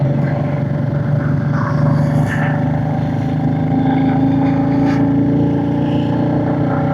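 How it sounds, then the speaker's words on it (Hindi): Motorcycle engine labouring in first gear up a steep, rain-soaked mountain climb, a steady continuous drone with mild revving swells, close and loud throughout without speech. "ये तो बड़ी चढ़ाई है भाई, फर्स्ट गियर में भी नहीं जा रहा बाइक"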